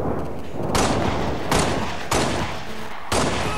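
Four loud gunshots in the video game Halo: Reach ring out at roughly even intervals, each a sharp blast with a brief decaying tail over a constant background hum.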